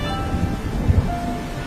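Heavy rain in a cartoon, a dense steady roar of downpour with a few low thuds, loud and unbroken, with no talking.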